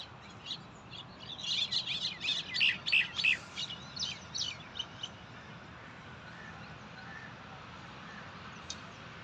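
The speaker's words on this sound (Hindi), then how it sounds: "ये देख रहे हैं आप, कौवे और फाख्ताएँ" Crows and doves calling in Allama Iqbal Park: a burst of chirping and calls for a few seconds that thins out and fades, leaving a steady low outdoor hum.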